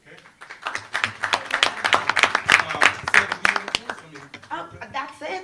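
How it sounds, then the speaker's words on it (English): An audience at a tax panel presentation claps for the panelists: a dense burst of applause that swells and then tapers off, with voices mixed in under it. "applause for the panelists, please, and Sandra"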